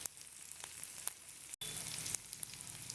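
Onions and spices fry steadily in a pan, a soft continuous sizzle close by with faint crackles and no voices, part of cooking pork with dhekia greens.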